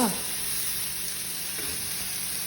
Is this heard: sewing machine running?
no